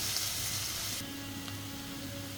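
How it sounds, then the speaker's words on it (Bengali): Onions frying in a pan for a home-style chicken curry, a soft continuous sizzle with a slight change in tone partway as they are stirred, no voices. "এটাকে নেড়ে চেড়ে প্রথম থেকেই আপনার লাল করে ফেলতে হবে হ্যাঁ বেরেস্তার মতো অনেকটা"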